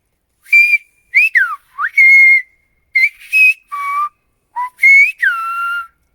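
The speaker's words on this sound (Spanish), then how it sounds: "Me enamoré del silbo gomero." Silbo Gomero, the whistled language of La Gomera: a run of loud, close, clear whistles in short phrases, the pitch gliding up and down with bends and trills and short gaps between them, with no speech.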